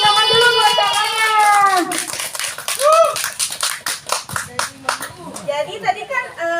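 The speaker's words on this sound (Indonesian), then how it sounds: "Kasih tepuk tangan dulu buat kakaknya" Brief bursts of clapping from an audience cheering a girl at a village Indonesian-language lesson, scattered applause mixed with children's voices and chatter.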